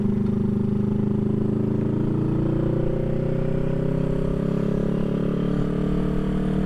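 A 1975 Honda CB360T motorcycle cruises at about 50 in sixth gear, its engine a loud, steady, close drone with an even pulsing hum and no break.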